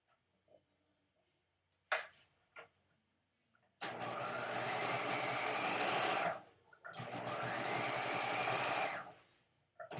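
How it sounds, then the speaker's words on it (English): A sewing machine runs in two long, steady bursts, stay stitching a half-inch line along the cut edge of a bias neckline facing strip, with brief handling clicks before it starts. "Let's go to the machine and stay stitch this."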